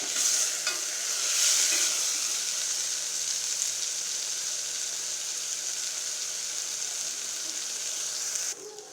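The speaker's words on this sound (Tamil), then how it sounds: "அந்த எண்ணெயிலே கத்திரிக்காய் கொஞ்சம் நேரம் வணங்கிட்டு இருக்கட்டும்" Brinjal frying in oil in a pan, a steady bright hiss of sizzling oil that holds evenly for several seconds before cutting off near the end.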